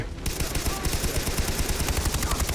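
Rapid automatic gunfire rattles on steadily in the video game Far Cry 3, a loud, close, evenly spaced burst of shots with no talk over it.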